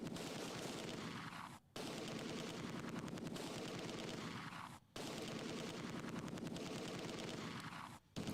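Steady gunfire from the video game Close Combat 2 rattles on in rapid bursts. Three evenly spaced near-silent gaps break up the dense, ongoing fire.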